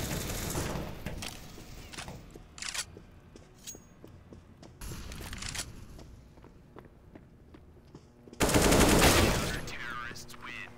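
Gunfire in CSGO: scattered single shots and short bursts amid footsteps, then a loud, dense burst of automatic fire near the end.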